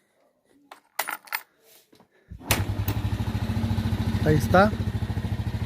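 An Italika Z150 motorcycle with a freshly remounted engine is kicked over after a few clicks and knocks, catches, and settles into a loud, steady, rapidly pulsing idle close by, with a short spoken remark over it.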